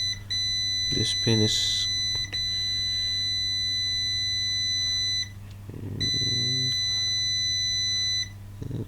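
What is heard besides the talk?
multimeter continuity beep testing MacBook Pro pins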